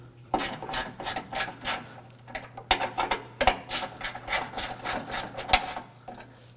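A ratcheting wrench turning a 10mm socket on the radiator bracket bolts of an Acura MDX makes a quick run of sharp mechanical clicks. The bursts repeat at a steady pace, close up, with a faint hum behind them.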